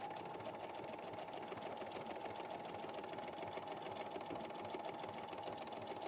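An overlocker sewing machine runs continuously with a fast, even mechanical whirr and rapid rhythmic stitching clatter, steady and moderately quiet throughout, with no talk.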